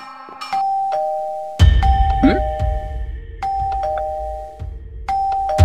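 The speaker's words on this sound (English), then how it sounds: "Oh, that's the doorbell." Doorbell rings in a Minecraft animation, a bright two-tone electronic chime repeating several times over a low background rumble, with a short interruption partway through.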